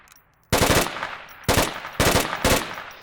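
A Volk rifle in a video game fires four short, sharp bursts after a moment of near silence, each burst loud and close with rapid rounds that decay quickly between pulls.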